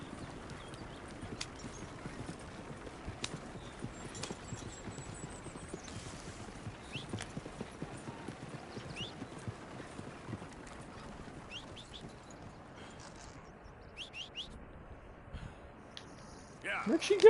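Horse hooves clip-clop in the video game Red Dead Redemption 2, with steady, faint rhythmic footfalls over a quiet outdoor ambience and a brief louder burst at the very end.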